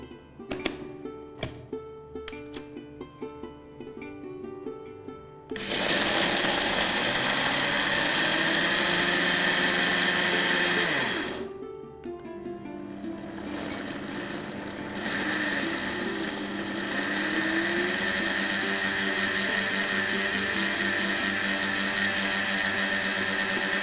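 A mixer grinder churning roasted peanuts into peanut butter: some clicking and handling first, then a loud, steady motor whir that dips briefly and resumes, continuing to the end, close and without speech.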